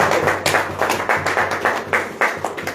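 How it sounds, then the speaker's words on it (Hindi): Audience clapping hands in unison at a Christian worship service, a steady rhythmic beat of about eleven claps, fairly loud and close, with no talking over it. "आप बजाओ ताली"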